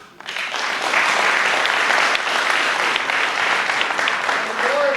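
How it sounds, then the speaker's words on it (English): Audience at the ribbon cutting of the Southeastern Performing Arts Center breaking into loud applause that swells quickly and holds steady, with a voice speaking underneath. "Let's give yourselves a round of applause."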